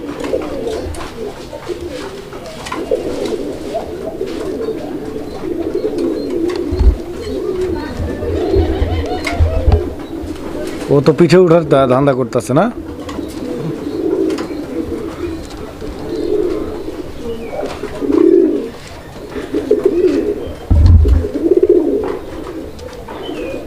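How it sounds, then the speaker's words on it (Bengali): A pair of Golla pigeons coos repeatedly, soft throaty calls close by, while people talk over and around them. "এটাও গোল্লা কবুতর খুব সুন্দর একটা জোড়া আপনারা দেখতে পাচ্ছেন"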